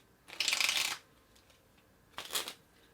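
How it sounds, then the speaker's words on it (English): Two quick riffle shuffles of playing cards, a crisp fluttering burst followed by a shorter one, close and fairly quiet. "They just hear the cards being shuffled, so it sounds fair."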